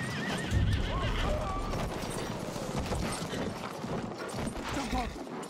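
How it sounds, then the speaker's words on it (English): A horse in the Battlefield 1 video game neighs and gallops, its steady clip-clop hoofbeats running close and loud under battle noise while a voice speaks over it. "Good horse! Gallop!"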